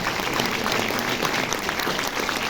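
A cinema audience at a film premiere presentation gives a film producer warm, dense applause. It is a continuous roar of many hands, full and even, with no voices on top.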